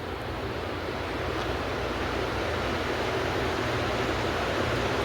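A ceiling fan with a remote control runs at high speed, giving a steady, loud broadband whoosh of moving air with a low rumble, constant and unbroken throughout, with no voices.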